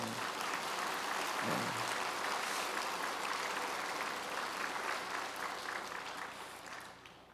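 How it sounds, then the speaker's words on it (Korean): Audience applause fills a church winter camp sermon hall, a dense sustained clapping from a large crowd that holds steady and then gradually tapers off at the end. "이것도 박수 좀 쳐야 될 것 같은데"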